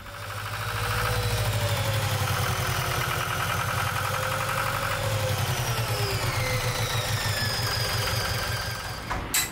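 A sailboat's diesel engine in poor condition runs steadily, revving up and down in gear and in neutral, a loud continuous throbbing drone with shifting pitch and a rhythmic knock, alone without talk.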